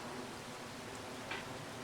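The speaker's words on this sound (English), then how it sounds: "Oh no, we got a lot of rain." Heavy rain in Farming Simulator 25 forms a faint, steady broadband hiss that stays even throughout, with no voices over it.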